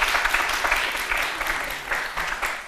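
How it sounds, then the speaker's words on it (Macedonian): Studio audience applauding guests on a talk show about breast cancer, a dense, steady clapping that fills the room at close range and holds at an even level throughout. "Може да ги поздравиме со аплауз."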